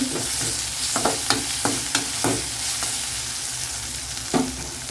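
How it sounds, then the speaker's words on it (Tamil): Onions with ginger garlic paste sautéing in a pan for a spicy mushroom gravy, a close hiss of frying punctuated by irregular spatula scrapes and clinks against the metal, no voices. "இஞ்சி பூண்டு பேஸ்ட்டு வெங்காயம் நல்லா வதங்கிடுச்சு"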